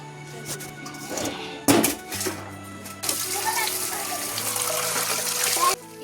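Water gushing and splashing as vegetables are washed for village cooking, a loud steady rush starting midway after some clatter and handling knocks, close by, with no talking.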